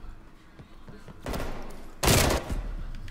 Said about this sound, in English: he's shooting through every wall